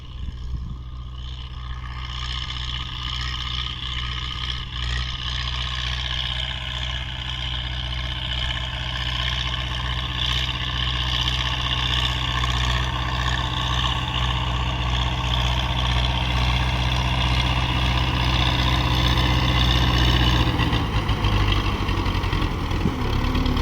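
MTZ 82.1 tractor disking a field for wheat sowing, a loud steady diesel drone close by that slowly builds as the engine is revved, with no talk.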